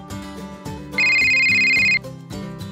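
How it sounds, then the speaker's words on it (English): A telephone rings with a bright electronic ringtone lasting about a second, loud and clear over a soft musical backdrop of piano-like chords that continue before and after. "The phone rings."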